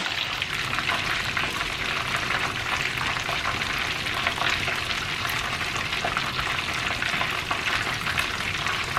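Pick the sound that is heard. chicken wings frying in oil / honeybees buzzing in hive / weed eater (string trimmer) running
chicken wings frying in oil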